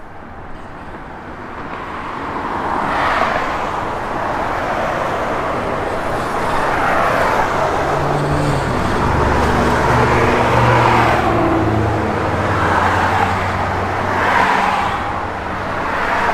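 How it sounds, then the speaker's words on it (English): A 1970 Chevrolet Chevelle SS with a Flowmaster dual exhaust and chrome tips rumbles steadily on the road, its engine note rising and falling in a few swells of acceleration over a continuous loud drone. "It's got a good sounding Flowmaster dual exhaust system with the chrome tips."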